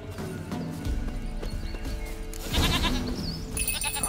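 A goat in The Witcher 3 bleats amid hoof clip-clop and ambient game music, fairly close and moderately loud, with no one talking.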